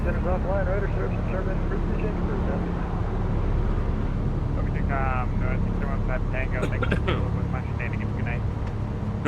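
A Cessna's engine drones steadily just after takeoff in a flight simulator, a constant low hum running beneath continuous radio-style talk.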